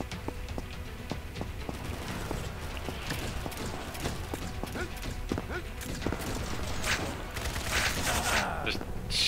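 Gunfire in the shooter game Combat Master: rapid bursts of sharp shots repeat steadily throughout, fairly close, with dense clattering impacts toward the end.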